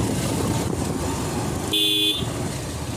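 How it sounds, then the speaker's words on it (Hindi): Slow-moving traffic jam with a steady wash of car engines and road noise, broken by one clear horn honk lasting under half a second. "मूविंग ट्रैफिक है बेसिकली।"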